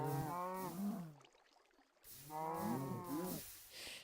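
Cows in the video game Minecraft moo twice, two long, low, drawn-out calls close by with a short gap of near silence between them.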